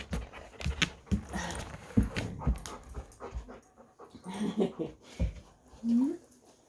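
A small lap dog pants and gives a rising whimper near the end, close and fairly soft, while someone talks to it.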